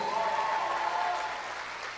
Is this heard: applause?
yes